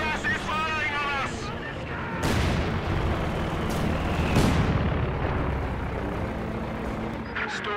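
Anti-tank gun fire in Company of Heroes 2, with booming shots and rumbling battle noise over several seconds and a voice speaking at the start.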